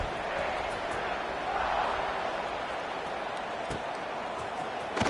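In an American football video game, a stadium crowd gives off a steady, dense buzz of noise after a score. The sound holds at an even level throughout, with one brief swell.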